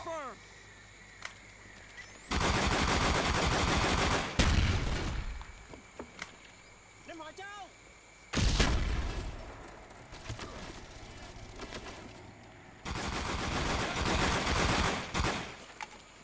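Bursts of automatic gunfire from Call of Duty: Black Ops on the Wii with an FN FAL, three loud sustained volleys separated by quieter gaps of game sounds.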